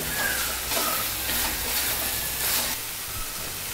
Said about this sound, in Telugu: ఈ పేస్ట్ అంతా చక్కగా కలిసేటట్టు కలుపుకోవాలి